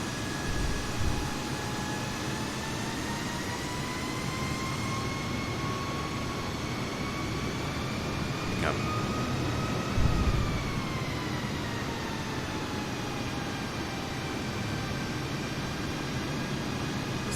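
An Airbus A320neo in Microsoft Flight Simulator taxiing, a steady jet engine hum and whine with gently rising and falling tones, continuous and fairly close, no voices.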